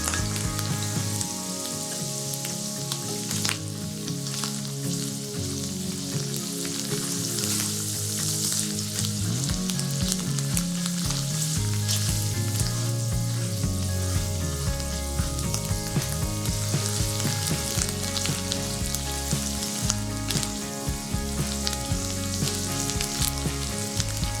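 Food fries hard in a hot pan, reducing as its water cooks out. A loud, dense sizzle runs throughout, with crackling pops and what sounds like soft music underneath.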